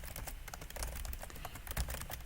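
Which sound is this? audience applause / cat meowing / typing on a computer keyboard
typing on a computer keyboard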